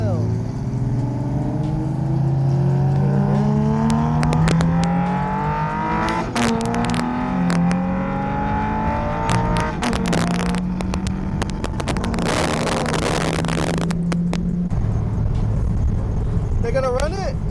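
Loud car engine at a cars-and-coffee meet, revving and rising through repeated pitch sweeps with sharp throttle blips, close and continuous, with people talking over it.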